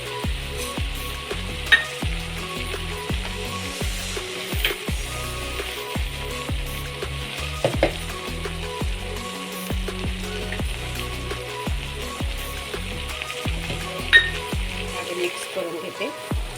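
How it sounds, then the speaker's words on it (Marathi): Grated carrot halwa with sugar is stirred in a pan, giving a steady close sizzle broken by repeated scraping strokes of the spoon, with a few sharper knocks against the metal. "सगळं चांगलं मिक्स करून घ्यायचं"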